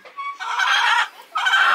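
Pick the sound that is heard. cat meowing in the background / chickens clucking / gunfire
chickens clucking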